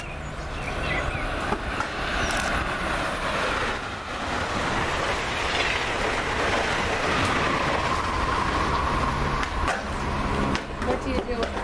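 A train on the Northeast Corridor at Edison rolls past steadily on the rail line, a loud continuous rumble with clacking wheels and a rising squeal, while people talk over it.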